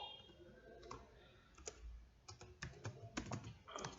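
Keys tapped on a computer keyboard while a folder name is entered, a sparse run of light clicks in short bursts over a low room hum, close and fairly quiet with no talking.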